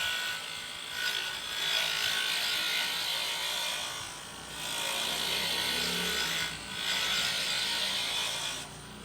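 A wooden coffee scoop being shaped on a woodturning lathe, with a close, continuous scraping hiss of the tool cutting the spinning wood that swells and eases in several long passes.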